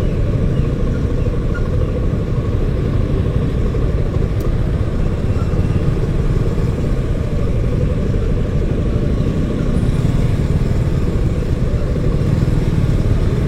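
A Suzuki V-Strom 250SX single-cylinder motorcycle rolls along slowly on a lightly slipped clutch, giving a steady low engine rumble that stays even and fairly loud throughout, with no talk.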